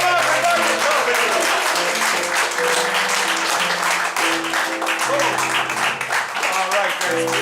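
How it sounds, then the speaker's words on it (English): An audience applauds a theater cast as they enter the stage, loud dense clapping that fills the room steadily, with voices and cheers mixed in underneath. "You're going to wildly applaud them as they enter right now."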